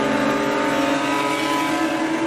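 A C5 Corvette race car at full throttle on a racing circuit, its engine droning loud and steady from close up with no break.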